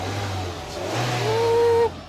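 A truck engine revs after a repair, a mid-pitched motor rising steadily under a whining tone, then dropping off abruptly near the end.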